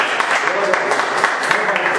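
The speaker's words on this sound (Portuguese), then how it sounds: "E que as palmas louvem a Deus." Congregation applauding in church at the close of a prayer, a steady wash of many hands clapping, moderately loud and continuous with a faint murmur beneath.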